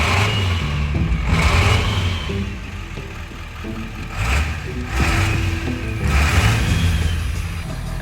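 Ford 7.3 diesel engine in an old F250 truck idling and being revved in several bursts, a close, rough, knocking rumble rising and falling, with no talking.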